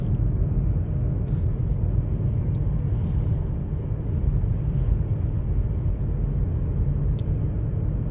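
Steady low road rumble inside a car rolling through city streets in Dnipro, Ukraine, a continuous muffled drive noise with faint occasional ticks and no speech.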